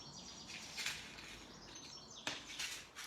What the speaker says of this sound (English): The birds are so noisy